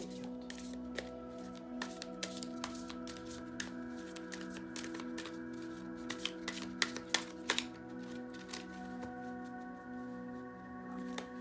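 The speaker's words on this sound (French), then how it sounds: "Donc, je vais battre les cartes." Tarot cards being shuffled at a reading table, a quick run of soft papery riffles and taps over a steady background hum, close but quiet, with no talking.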